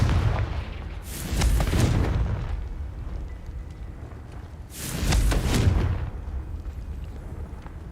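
Confringo explosive spell blasts in Hogwarts Legacy: two heavy booming detonations about four seconds apart, each with a rumbling tail, over a constant low game background, with no talking.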